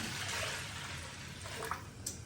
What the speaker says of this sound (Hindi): अभी इसमें ऐड करूँगी मैं पानी